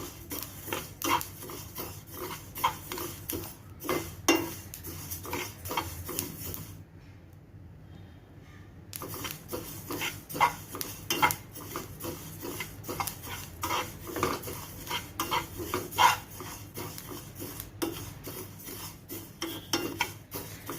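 Niger seeds (karale) dry-roasting in a pan, with a spoon scraping and stirring through them in steady clinks and rasps, close and fairly loud, broken by a short quiet pause.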